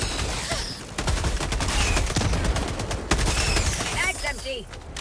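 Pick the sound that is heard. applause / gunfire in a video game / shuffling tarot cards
gunfire in a video game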